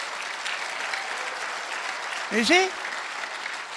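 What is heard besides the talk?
congregation applauding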